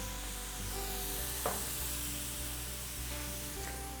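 Sliced leeks cooking down in a pan give a steady, gentle sizzle and soft frying hiss, with a faint stir or clink partway through and no voices.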